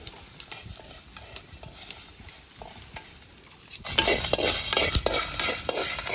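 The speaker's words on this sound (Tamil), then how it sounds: "இதெல்லாம் நல்லா பொன்னிறமாக வறுத்துக்கறணும்" Cumin seeds and dried chillies rasp and scrape as they are stirred and roasted in a dry pan, quiet at first and then louder and busier for the last couple of seconds.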